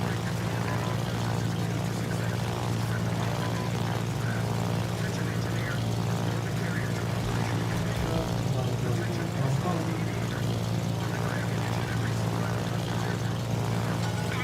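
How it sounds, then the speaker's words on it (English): Bomber aircraft droning through a World of Warships naval battle, a steady propeller-like engine hum that holds at the same level the whole time, mixed with game ambience while someone talks over it. "Little bombers going here."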